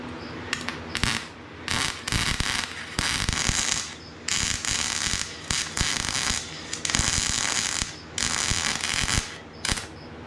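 Harsh crackling buzz from a cheap MIG welder in uneven bursts, stopping and starting with short gaps as the wire feed stutters irregularly. No voices.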